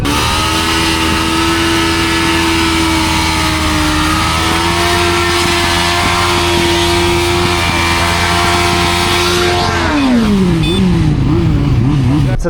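A new Tekken 300 motorcycle engine runs loud and close with a steady drone, then revs up sharply near the end, at a roadside gathering of motorcyclists on a highway.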